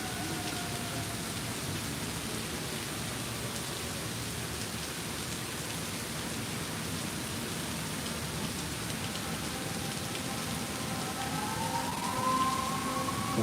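Heavy rain pouring steadily during a huge storm at Disney, a dense constant hiss of drops on surfaces with faint distant rumbles underneath, unbroken for the whole stretch.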